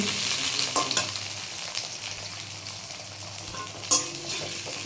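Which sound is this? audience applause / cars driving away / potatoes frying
potatoes frying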